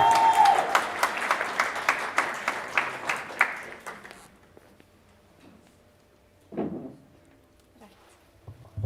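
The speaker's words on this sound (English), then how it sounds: "A round of applause for them, ladies and gentlemen." An audience at a primary school speech contest claps steadily for about four seconds, a crowd of hands beating in a fairly even rhythm before stopping abruptly, followed by quiet room tone with a couple of faint knocks.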